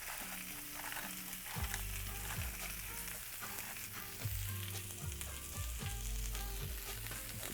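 A salted pork chop sears in a hot pan with a weight pressing it down, giving a steady sizzle that sits beneath louder background music.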